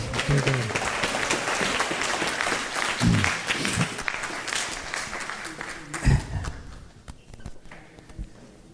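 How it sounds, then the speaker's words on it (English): An audience at a school board meeting claps steadily in a sustained round of applause that gradually thins out and fades near the end. "one last round of applause"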